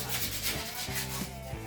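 Hand sanding of a bicycle part being stripped for repainting, with steady rhythmic back-and-forth rasping strokes, close and fairly quiet, with no talking.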